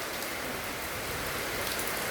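Steady rain falls outdoors in hot weather, a continuous dense hiss of drops on surfaces with no other sounds over it.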